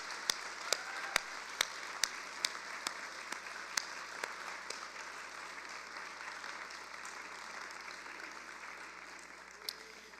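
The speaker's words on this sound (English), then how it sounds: "can we get a round of applause for all of the staff and volunteers that have made this event happen?" A rally crowd applauds its staff and volunteers, a faint and somewhat distant wash of clapping with a few sharp individual claps standing out early on.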